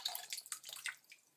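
Scattered water drips and small splashes falling from an iPhone 5 in a waterproof skin just lifted out of water, a run of brief close patters with quiet gaps between them.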